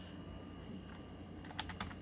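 Typing on a PS/2 keyboard connected to a DEC Digital Starion 300 retro PC, a few soft, sparse keystrokes near the end over a steady low electrical hum, with no talking.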